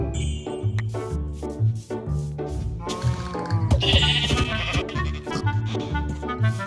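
Sheep bleating in the video game Minecraft, several short bleats at close range over a continuous bed of background music with light chimes.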